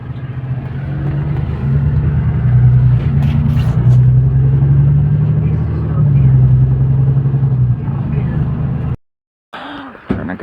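City bus driving, heard from inside the cabin: a steady low engine rumble with rising and falling revs runs for about nine seconds, people talking over it, then a brief drop-out before the noise returns.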